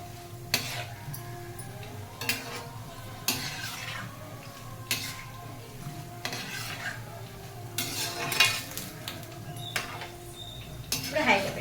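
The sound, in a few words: chiwda ingredients frying until crispy in a pan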